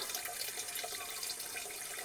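Rainwater pours into a nearly full water drum, a quiet, steady trickling and splashing that runs continuously without any voices.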